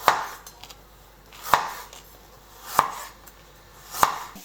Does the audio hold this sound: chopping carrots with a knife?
yes